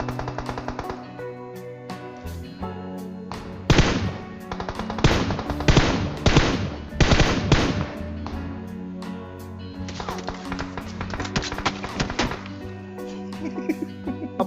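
M416 Glacier rifle fire in a video game, with loud rapid automatic bursts in a couple of long volleys and scattered single shots, interspersed with quieter game sounds.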